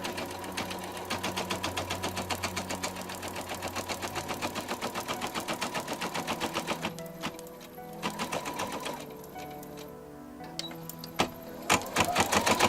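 An embroidery machine runs a tack-down stitch over Mylar, a fast steady needle chatter that pauses briefly and resumes with a few sharper clicks, close and clear with no talking.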